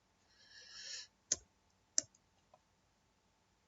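A computer mouse clicks a few times, sharp isolated ticks spaced about half a second apart, quiet and close, following a brief soft rustle.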